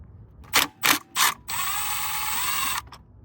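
Power tool on the transmission mount bolts of a second-generation Nissan Rogue (T32): three short loud ratcheting bursts followed by a longer steady whirring run, then a brief tail, close up with no talking.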